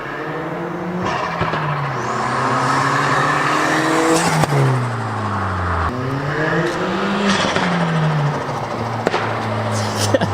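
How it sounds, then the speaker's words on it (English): A VW Golf fitted with a K04 turbo revs repeatedly as heard from outside, the engine note sweeping up and falling back in several loud pulls, with spool whine and sharp pops between them. "You can hear the turbo even spool up."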